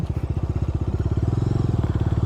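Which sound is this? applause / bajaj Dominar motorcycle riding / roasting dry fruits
bajaj Dominar motorcycle riding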